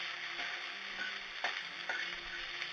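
Macaroni is stirred in a pot, producing a faint, steady hiss with a few soft scrapes and swishes, quiet and close, with no talking.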